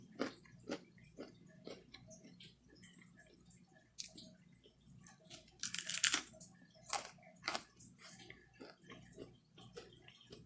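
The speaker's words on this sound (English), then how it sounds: "Can you guys hear the crunch?" A homemade saltine cracker being bitten and chewed up close, with a handful of sharp, bright crunches standing out from softer chewing, no talking.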